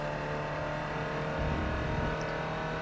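A race car in a racing video game accelerating out of a corner, a steady engine drone that swells slightly midway, moderately loud and close, with no talk.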